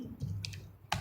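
A few light clicks of typing on a computer keyboard, quiet and close, with brief pauses between short bursts of keystrokes.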